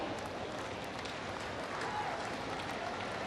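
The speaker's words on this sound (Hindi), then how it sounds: "तालियां बजती रहनी चाहिए" Audience at a ceremony applauding continuously, a dense, even wash of many hands clapping heard from a distance, faint overall, with a voice over a loudspeaker riding on top.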